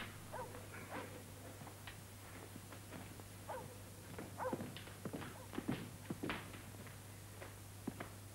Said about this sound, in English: Our neighbors have dogs. They must have treed a cat.